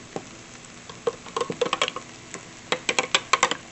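A spoon stirring a thin, milky mixture in a bowl, heard as soft clinks and scrapes in uneven bursts, a cluster early on and a faster run near the end, fairly quiet and close with no talk.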